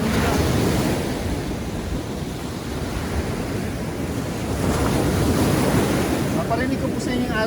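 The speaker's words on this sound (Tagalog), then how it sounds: "Paparinig ko po sa inyo yung alon." Continuous crashing surf at Koura Beach, Japan, loud and close, with heavy wind buffeting the microphone and a brief faint voice near the end.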